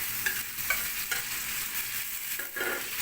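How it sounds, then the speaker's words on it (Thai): Tomatoes frying in a pan with shrimp paste for a Tai Yai egg dish, stirred steadily: a constant hissing sizzle carries short scraping strokes of the utensil at irregular intervals, close and moderately loud, with no voices. "แล้วก็คนให้ให้มันสุกนะครับ คนไปเรื่อยๆจนมันสุกนะครับ"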